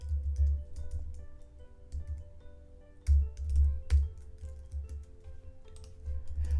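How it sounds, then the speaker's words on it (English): Rapid typing on a computer keyboard, a steady run of close, crisp key clicks with occasional louder bursts, heard alone without speech. "Now I get to have the pleasure of typing that out."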